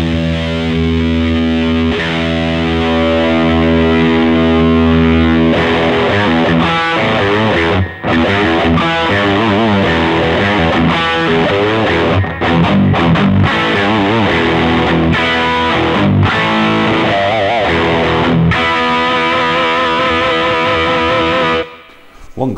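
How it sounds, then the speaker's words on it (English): An electric guitar played through a Wampler Pinnacle overdrive pedal, first a held distorted note whose tone shifts as the contour knob is swept, then loud driven chords and riffs, sustained and saturated throughout. "If we just play a note and then sweep the contour around, you can hear the dramatic effect it does have on the mids and your overall tone."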